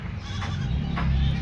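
Goats tied close together at a young goat farm in Ghatail, Tangail bleat a couple of times over a steady low rumble of farmyard background, moderately near and fairly loud.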